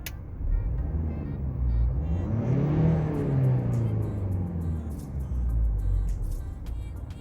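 A Range Rover Evoque engine idles, then revs up and eases back down in a couple of swells, steady and fairly close, with no talking.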